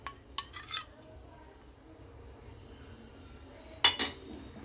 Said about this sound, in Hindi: इसको डालते हुए हमें चलाते रहना है।